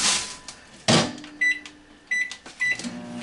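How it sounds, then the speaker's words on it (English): A microwave oven at work: a low hum with clicks, a door thud, and a few short electronic beeps, close by and without speech. "I'm putting that in the microwave for 40 seconds"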